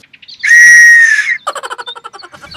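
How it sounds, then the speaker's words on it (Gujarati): A whistle is blown in one long shrill sustained blast, then a run of quick, short chirping toots, loud and close, with no talking. "સિસોટી વગાડતા હતા"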